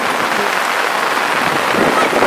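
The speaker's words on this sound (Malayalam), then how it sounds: "നല്ല അടിപൊളി മഴ പെയ്തുകൊണ്ടിരിക്കുക." Heavy rain pours steadily over a paddy field in Kerala, a dense, loud and constant hiss with no break and no voices.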